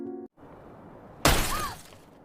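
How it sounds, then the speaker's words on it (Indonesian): A car window's glass shatters from a thrown stone in a sudden loud burst that decays over about a second, preceded by a brief tone and quiet ambience. "Woyeon melempar kaca mobil Yungun dengan batu."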